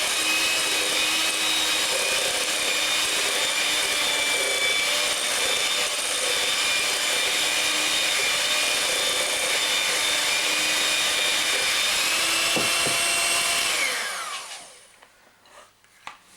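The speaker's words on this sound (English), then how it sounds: "You make with a food mixer." An electric food mixer whirs loudly and steadily as it beats Yorkshire pudding batter, running nonstop for about fourteen seconds and then cutting out. No one talks.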